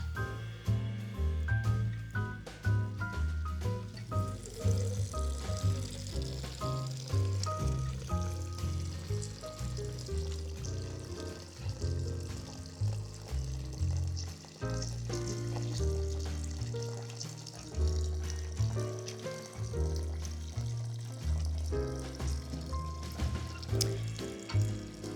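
Homemade chicken broth poured through a strainer into a container, a steady close splashing and trickling stream of liquid that runs almost continuously with slight surges.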